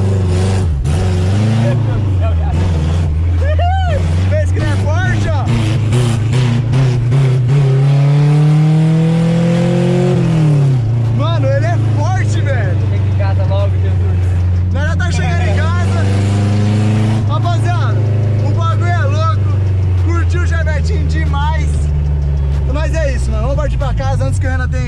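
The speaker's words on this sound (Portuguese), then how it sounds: "Que eu tô acelerando e freando ao mesmo tempo." Chevrolet Chevette engine revving loudly and continuously while accelerating and braking at once, pitch rising and falling, with people talking and shouting over the roar.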